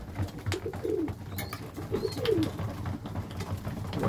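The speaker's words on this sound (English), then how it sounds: "Two young tipplers coming on well." Young tippler pigeons coo softly at close range in a breeding loft, several short throaty coos repeating over quiet background rustle.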